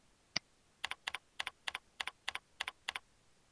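Keys on a computer keyboard are tapped in quick succession while a login ID is entered, about a dozen crisp, close clicks in small uneven pairs and clusters against a quiet background.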